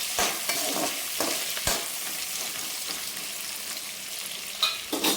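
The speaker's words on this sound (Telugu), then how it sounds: "ఇవి కొంచెం ఫ్రై అయిన తర్వాత కట్ చేసి పెట్టుకున్న ఆనియన్స్, పచ్చిమిర్చి వేసుకోవాలి." Chopped onions and green chillies frying in a pan, a bright continuous hiss of sizzling oil with a few sharp spatula knocks as they are stirred.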